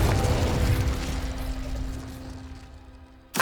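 A Confringo explosive spell in the Hogwarts Legacy video game bursts loudly at the start, then a rumbling roar with a steady tone decays over about three seconds, ending in a short sharp hit.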